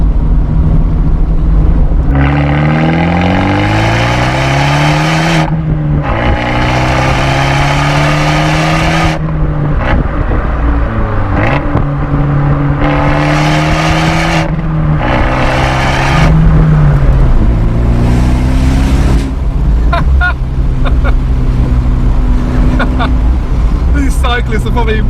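Abarth 124 Spider with a 1.4 engine revving hard and accelerating through repeated gear pulls, its loud raspy exhaust note rising and dropping at each shift, close and dominant with no talk.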